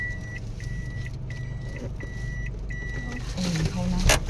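A car backs slowly into a parking spot, its reversing alarm giving a steady series of evenly spaced electronic beeps over a low engine drone, with some louder shuffling near the end.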